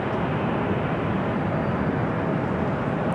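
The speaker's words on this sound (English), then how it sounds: "Southwest flight heading to El Paso, Texas, is 737-700." A Southwest Airlines Boeing 737-700 bound for El Paso, Texas, at Los Angeles airport, heard as a steady, loud broadband jet roar that holds evenly throughout with no talk.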